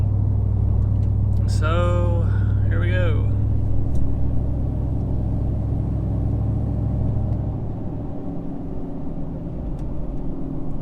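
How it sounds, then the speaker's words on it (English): A pickup truck running its stock tune drives along with a low, continuous engine rumble and road noise, while someone talks briefly over the cabin sound before the drone eases off. "So we are going to just drive the truck around for a second, see if we can notice a difference."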